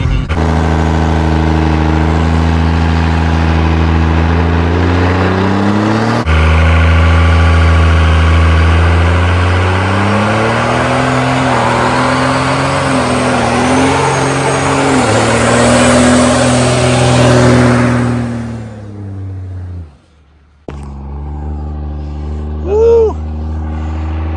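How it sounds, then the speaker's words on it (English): A compound Cummins diesel truck roars through a loud, sustained burnout, its deep engine note steady and heavy for about twenty seconds before cutting out, then rumbling back at a lower idle. "That was a nice loud burnout."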